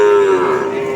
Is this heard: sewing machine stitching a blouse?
no